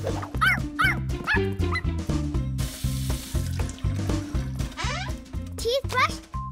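A cartoon pug's barking is performed by a voice imitating a dog, giving quick, repeated yappy arfs over bright cartoon music and splashy background sound.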